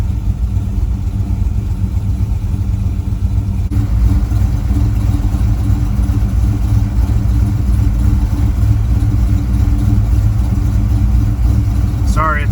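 A 1985 Chevy C10 pickup engine rumbling after its first start, a steady, loud, low idle that thickens slightly partway through and runs on without talk.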